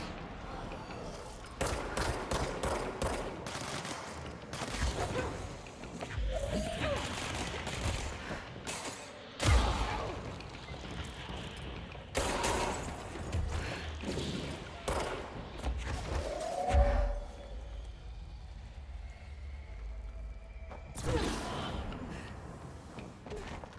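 Teleporting snipers fire during a boss fight in the video game Control, with repeated loud gunshot bursts and heavy impacts spread across the stretch, some clustered in rapid volleys, between quieter gaps.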